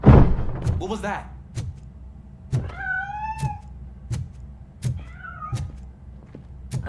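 A cat meows twice in the Robocop video game, drawn-out tonal cries that rise and fall. Sharp mechanical thuds and clicks are scattered around them over a low background hum.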